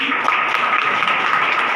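Sustained applause from a crowd at a DXN business partners' meeting in Nepal, honoring Durga Prasad; dense, steady clapping throughout with no talk over it.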